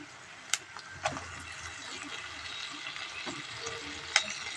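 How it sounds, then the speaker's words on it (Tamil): Onions and tomatoes sizzle quietly in a pan for an egg gravy while a spoon stirs them, with a few sharp scrapes and clinks against the pan over a soft, steady frying hiss. "அதையும் நல்லா கிளறி விட்டுருவோம்"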